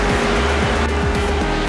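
Cars, among them a Maserati, a Corvette and a Ford Mustang, move through the Mall of the Emirates parking area. A loud, steady engine roar carries repeated rising and falling revs with a squealing edge, close and continuous.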